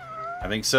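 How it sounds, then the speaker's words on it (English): A cat meows in a video game, a short tonal cry that comes just after a brief spoken phrase, near and fairly loud. "That's no pigeon. That's a cat."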